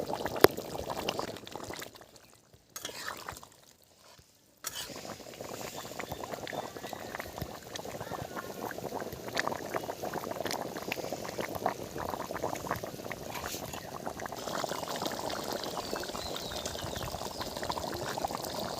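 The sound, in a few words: chicken curry simmering and boiling in a pot on the stove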